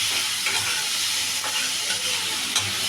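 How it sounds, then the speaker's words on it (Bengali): Tomato and egg fry in a pan with a steady, dense sizzle and hiss, close and continuous, broken by occasional light taps and scrapes of a stirring utensil. "সুন্দর করে ভাজা ভাজা করে তারপরে টমেটো, ডিম, লুড়ু সব দিয়ে দিতেছি"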